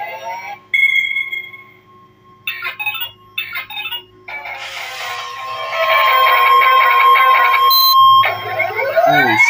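Repeated electronic beeps and warbling tones in bursts from a glitching Elite Robo toy robot, shifting to a loud continuous electronic alarm-like chirping near the end.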